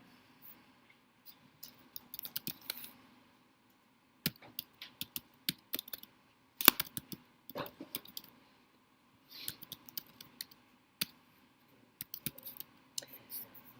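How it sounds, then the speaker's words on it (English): Quick typing on a computer keyboard, irregular bursts of faint close key clicks separated by short silent pauses, no talk. "So I'm going to quickly type it up."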